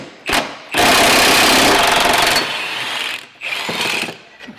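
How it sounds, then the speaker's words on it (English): Impact power tool removing the main subframe bolts on a 2017-2025 Honda Ridgeline during a 2.5-inch HRG Offroad lift install, with loud, close, rattling bursts in several short runs separated by brief pauses. "we're gonna go ahead and start taking out the main subframe bolts right here"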